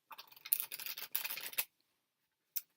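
Tarot cards from a Wild Wood deck being shuffled by hand, a close, dry rustling and scraping in two bursts of about a second each, then a brief final riffle after a pause, with no talking.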